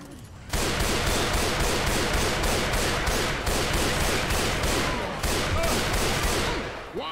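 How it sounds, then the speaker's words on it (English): Continuous automatic gunfire from Left 4 Dead 2, rapid loud bursts of shots repeating in a steady rattling rhythm that runs almost unbroken for several seconds after an abrupt start. "Watch where you're shooting."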